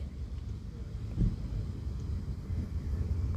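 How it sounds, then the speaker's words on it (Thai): Wind blows at an outdoor campsite on a cool day, a steady low rumble buffeting the microphone and swelling in short gusts. "แถมมีลมด้วย"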